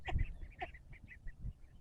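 Mallard ducks give a few short nasal quacks close by, spaced irregularly across a brief quiet moment with no talking.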